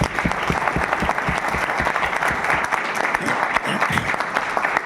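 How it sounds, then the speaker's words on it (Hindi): A seminar audience at a direct selling business talk breaks into loud, vigorous applause, sustained and close, with individual sharp claps standing out in the dense crowd sound. "जोरदार तालियां।"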